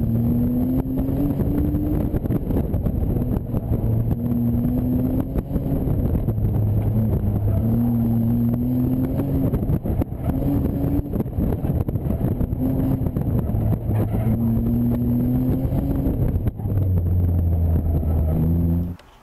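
A BMW Z3 roadster accelerates hard around an autocross course, its engine note rising and falling in repeated surges as it shifts and brakes between cones, loud and close throughout with steady wind and road noise.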